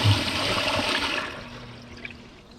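A 2025 Kohler Highline Pressure Lite toilet flushes with a loud, forceful rush of water that quickly fades to a gentle trickle as the bowl refills.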